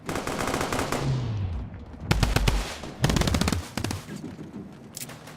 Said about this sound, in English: we hear the gunfight out there going on